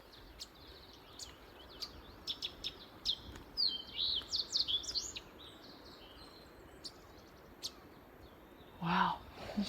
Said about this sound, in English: Where's that bird? It's close.